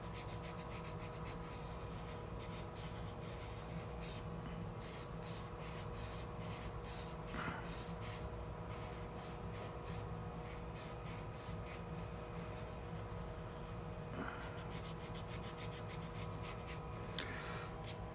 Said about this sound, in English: I'm not erasing real heavy. I'm just creating a path for me to spray.